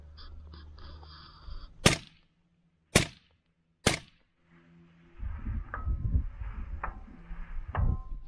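Three sharp semi-automatic rifle shots fired in quick succession at a 1,000-yard target, loud and evenly spaced about a second apart, with outdoor rumble before and after.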